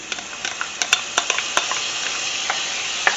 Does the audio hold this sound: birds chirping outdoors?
no